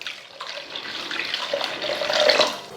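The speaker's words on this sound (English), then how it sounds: "We put 100 milliliter more water." Water pours into green mead must, making a steady splashing gush that swells slightly toward the end, with no one talking.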